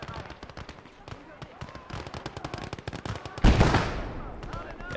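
Anti-tank gun and machine gun fire rattle through a modded Conquest game battle, with rapid bursts throughout and a loud, heavy blast near the end that rings out and fades, all under occasional talk.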